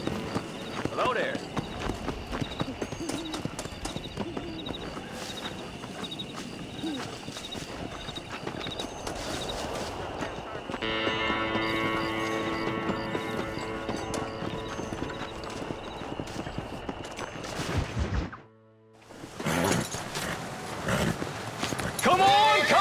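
Horses gallop in Red Dead Redemption, their hooves clip-clopping in a quick, steady rhythm, with occasional whinnies and people talking over them; the hoofbeats briefly drop out near the end before resuming.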